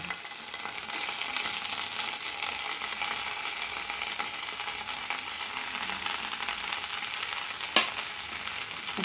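Grated coconut sizzles steadily in a hot pan for a spiced masala roti, a continuous close hiss of frying with one brief clink near the end and no voices.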